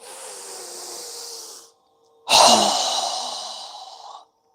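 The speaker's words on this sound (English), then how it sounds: "inhale. Strong exhale." A strong breath pushed out in a steady stream during a yoga breathing exercise, close and loud, following a softer, longer breath, with no talking.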